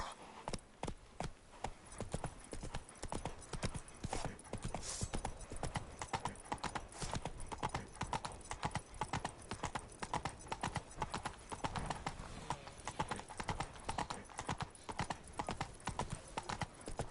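Geralt's horse Roach galloping in The Witcher III, a fast continuous run of clip-clop hoofbeats, fairly quiet and steady for the whole stretch.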